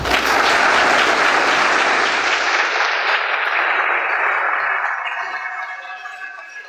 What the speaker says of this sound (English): Ladies and gentlemen, please join me in welcoming Pascal Lee, Andy Weir, and Mary Roach.